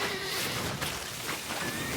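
Horse whinnying in the game The Witcher 3, a fairly faint neigh under a layer of game ambience, with a soft clop of hooves.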